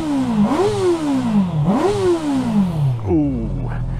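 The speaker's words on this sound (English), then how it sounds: "Have a listen to this. The highlight of this machine is that engine, as I mentioned." A 2022 Honda CB650R inline-four motorcycle engine revs up sharply and falls back, about three rising-and-falling blips in quick succession, loud and close, ending on a settled idle.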